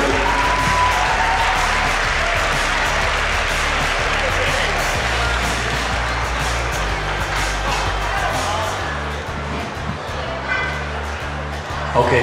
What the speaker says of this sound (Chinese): 给 B 组的选手掌声鼓励